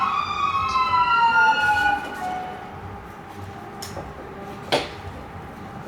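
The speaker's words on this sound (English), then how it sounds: "That's your ambulance, Doug." Ambulance siren wailing as it passes, its falling tones sweeping down and fading into the distance over low background rumble, with a couple of brief knocks late on.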